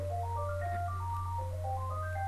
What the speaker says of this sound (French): J'ai le téléphone qui sonne.